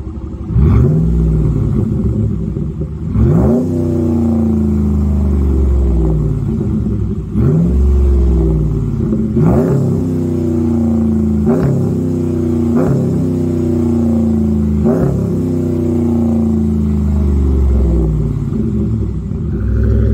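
A car engine with a Magnaflow direct-fit muffler delete revs repeatedly, each burst rising into a deep, raspy roar before dropping back to a rumbling idle, loud and close with no talking.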